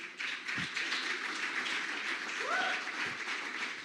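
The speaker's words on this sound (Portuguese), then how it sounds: "Eita, aplauda Jesus, né?" Church congregation applauding during a sermon, a steady wash of clapping filling the room with a voice rising briefly over it midway.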